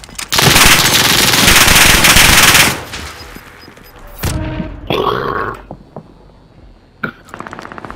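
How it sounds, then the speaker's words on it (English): Rapid automatic gunfire from Call of Duty: Modern Warfare bursts loudly for a couple of seconds, then gives way to scattered shots, game effects and a few short pops. "Yeah, he's shooting at me too."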